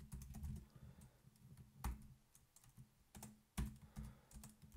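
Keys tapped on a computer keyboard while writing Rust code, in irregular bursts of light clicks with a few sharper, louder strokes spaced between them, close up and fairly quiet, with no voice.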